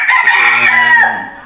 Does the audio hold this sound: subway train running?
no